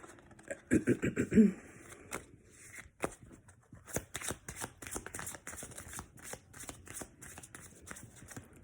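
Tarot cards are shuffled slowly nearby, a quick riffle burst followed by a run of soft, irregular snaps and slides of cards.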